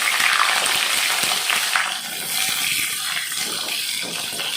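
Brinjal (eggplant) pieces sautéing in a pan, a steady close hiss and sizzle running continuously with slight swells, no voices.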